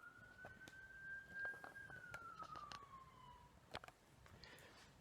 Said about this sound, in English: Ambulance going by, right.